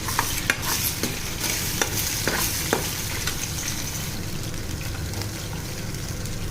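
Four eggs frying on high flame in sunflower oil in a kadai, a steady broadband sizzle with a few scraping stir clicks early on, close and even throughout.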